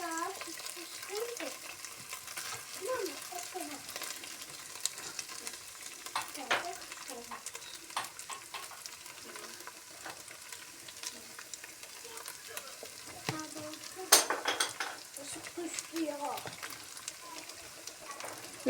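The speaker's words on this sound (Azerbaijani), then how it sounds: "qazan dibinə yağ tökdüm ki, yapışmasın" Oil sizzles faintly at the bottom of a cooking pot during rice preparation, with soft stirring and scraping noises and small irregular pops throughout.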